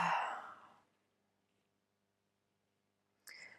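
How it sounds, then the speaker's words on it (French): A deep, slow exhale during a guided meditation, an audible breathy release fading into near silence, followed by a fresh breath or voice onset at the end, close and intimate. "je vous invite à reprendre une bonne respiration,"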